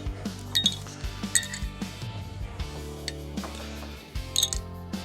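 Metal nylon lock nuts drop into a slot during a quad fog light kit install on a 2024–2026 Ford F-150, giving a few close, sharp clinks in small clusters over a low background hum.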